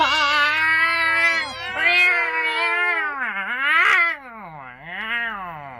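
A person mimics a cat, letting out a string of drawn-out, wavering meows that rise and fall in pitch, close and loud, with no other sounds around them.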